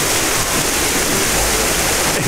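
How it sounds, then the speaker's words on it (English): Waterfall pouring inside a cave in rural Lombok, Indonesia, a steady, loud, close broadband rush of falling water that fills the space without a break. "And here is the waterfall."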